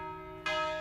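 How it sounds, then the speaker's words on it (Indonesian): A single church bell strikes once, loud and ringing with a long sustained hum after a brief quiet lead-in; the bell is being tolled slowly to announce a death rather than to call people to worship. "ini bukan bunyi lonceng tanda ibadah nih, tapi ini tanda kalau ada yang meninggal"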